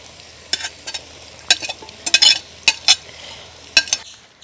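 Onion, carrot and capsicum sizzling in a pan, stirred in short bursts of scraping and clinking over a steady low fry, close and fairly loud with no talking.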